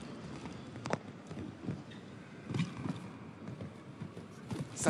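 Hoofbeats of a show jumping horse in a CSI-W 5* 1.60 m indoor arena round, soft muffled thuds falling in an uneven rhythm over a steady crowd and hall ambience.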